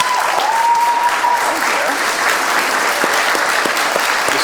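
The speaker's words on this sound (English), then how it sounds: "He's clapping because they're clapping." An audience at the Oxford Union applauds continuously in a dense, steady clatter of many hands, loud and close throughout.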